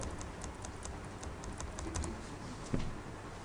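Computer keyboard arrow keys pressed in quick succession while moving an element in page-layout software, a run of crisp, close clicks with a slightly louder tap near the end.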